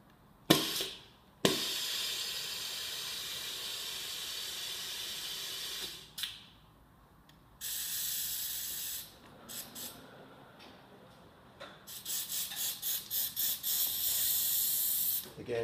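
An air-operated mechanical gripper for lifting reels clamps a rail with repeated pneumatic hisses, sharp bursts and longer blasts, then a rapid series of short pulses, loud and close against a quiet background.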